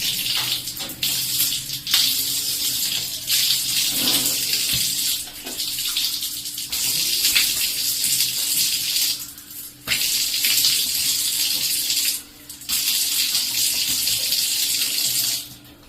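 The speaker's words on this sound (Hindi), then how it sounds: "इसीलिए मैं इस नल पर वज़ू बना रहा हूं" Water runs from a tap during ablution (wudu), a continuous close splashing gush broken by short pauses and hand-washing splashes, with no voices over it.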